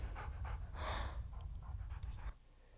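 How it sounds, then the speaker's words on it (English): A dog pants nearby in quick, rhythmic breaths, soft and close, for a couple of seconds before the sound cuts off abruptly, with no talking over it. "Very cute dog."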